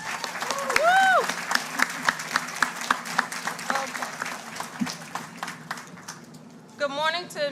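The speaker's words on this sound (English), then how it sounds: "Give yourself a round of applause." Scattered applause and cheering for graduates at a 2023 technical school completion ceremony, mixed with whoops and voices, uneven and fairly faint, with louder shouts at the start and end.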